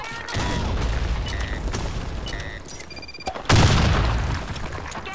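Grenade blast in the shooter game Blackshot, with a sustained rumbling boom through the first half, then a second sharp, loud explosion that slowly fades, alongside scattered gunfire and metallic clinks.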